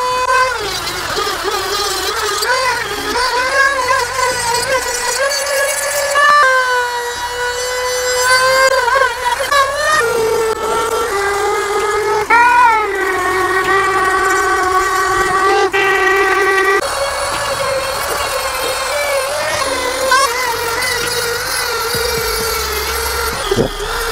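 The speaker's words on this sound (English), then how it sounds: "Now we have used this sanding tool, almost the approximate shape of the unicorn." A Black and Decker RT18KA variable-speed rotary tool sanding a wooden unicorn shape, giving a steady, loud high-pitched whine with shifting pitch as the speed and pressure change, running continuously with no talk.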